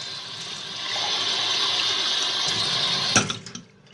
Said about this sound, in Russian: наливаю туда